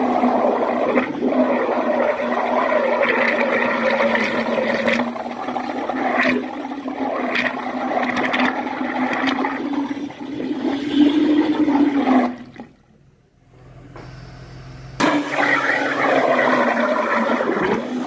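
Water gushes through a freshly unblocked drain in a loud, churning rush with gurgles, briefly dropping away to near silence before the flow surges back in full.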